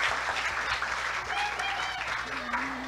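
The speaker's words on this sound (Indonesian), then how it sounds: "Tepuk tangan dulu buat kita semua." Students at an Islamic senior high school (Madrasah Aliyah) applaud with a full, busy burst of clapping, and voices and a faint tone sound beneath it.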